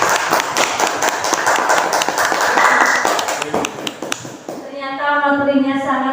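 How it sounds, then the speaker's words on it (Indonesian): Applause in a gathering at an Indonesian school teachers' event honoring Ibu Resya Triatmami, a burst of uneven hand claps close to the recorder, fading after a few seconds as a voice starts speaking. "Kepada Ibu Resya Triatmami, mari kita beri aplaus yang meriah."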